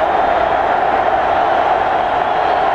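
A record crowd of over 109,000 at Neyland Stadium roars steadily during a college football game between Florida and Tennessee, a dense loud wash of voices with no distinct words.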